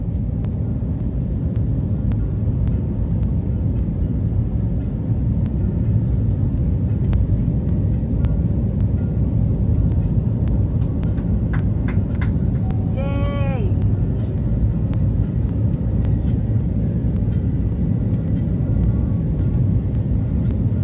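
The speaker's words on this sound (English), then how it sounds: "This plane waving its wings after taking off from the Airbus factory." An airplane flies overhead after taking off from an Airbus factory, a steady broad roar holding level throughout, with a brief rising whine partway through.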